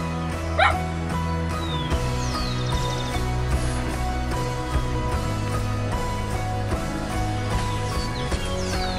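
A pitbull barks and whimpers amid a busy outdoor scene in Colombia, with a steady low hum, scattered bird calls and short yips rising above the background noise.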